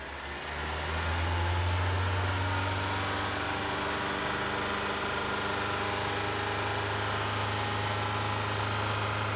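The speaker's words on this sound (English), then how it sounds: "Start the engine." A car engine idles steadily while warming up after a cold start, a low continuous hum with a faint rising whine, close and alone with no talk, the revs holding level throughout.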